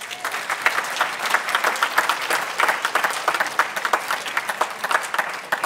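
Church congregation applauding loudly and continuously, dense clapping from many hands filling the room with a steady, even roar.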